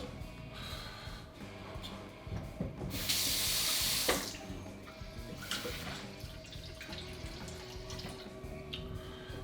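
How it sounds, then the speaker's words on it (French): Water runs from a tap while being added for a spiced pumpkin syrup, a soft steady stream with a louder rushing burst near the middle, faint and close in a kitchen. "Et il est temps de mettre un petit peu d'eau."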